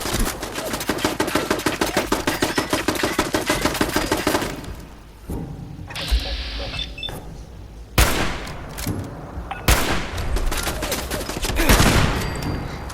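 Sustained rapid gunfire aimed at a turret in Fallout 4, a dense burst of automatic shots for several seconds, then a pause and further scattered loud shots and impacts.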